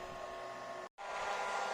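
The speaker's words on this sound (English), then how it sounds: "you can still hear the hairdryer in the background" A hair dryer whirs steadily with a constant airy hum, cutting out for a split second before resuming.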